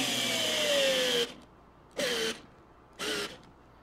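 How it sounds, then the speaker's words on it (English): A cordless drill used for HVAC work whines loudly through one long drilling run, then gives two short, separate bursts, each trigger pull rising and falling in pitch up close. "I drill it down and I give it a couple extra pushes there right at the end"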